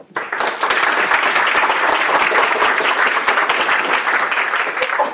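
Sustained applause from a lecture audience welcoming a speaker, a dense, even wash of clapping that swells in quickly and holds steady, with no talking over it.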